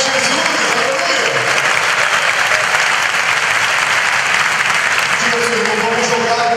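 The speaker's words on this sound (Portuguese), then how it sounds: "dê uma forte salva de palmas para Jesus" A church congregation applauding steadily and loudly, a continuous wash of clapping hands filling the space throughout, with some voices mixed in.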